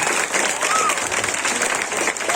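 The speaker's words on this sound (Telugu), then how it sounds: "ఒకసారి అందరూ కూడా గట్టిగా చప్పట్లు కొట్టారు." An audience at a dance performance applauds with dense, sustained clapping that holds at an even level throughout.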